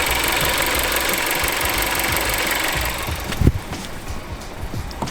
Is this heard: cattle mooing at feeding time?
no